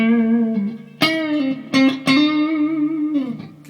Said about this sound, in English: it's also got what they call spring reverb